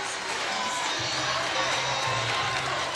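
Crowd at a Sun Belt Conference volleyball championship match cheers and shouts loudly and steadily, a dense roar of voices with whoops rising throughout.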